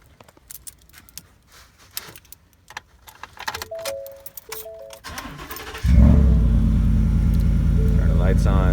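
Lifted 2018 Ford F150 pickup cold-starting after keys jingle and a short chime, the engine catching abruptly and settling into a loud, deep rumble; someone speaks briefly before the start.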